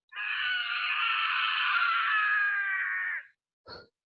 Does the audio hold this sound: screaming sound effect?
yes